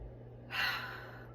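A single deep inhaled breath, close and airy, rising suddenly and sustained for under a second before trailing off.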